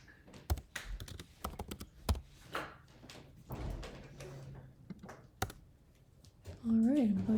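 Keys tapped on a computer keyboard in irregular bursts of clicks, fairly close, with a voice talking at the end.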